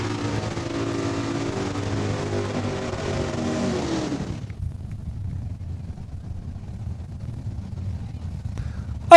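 Drag racing cars at Saskatchewan International Raceway in Saskatoon roar loudly with a steady engine drone for about four seconds. The roar then cuts off abruptly, leaving low rumbling background noise, with a brief sharp sound at the very end.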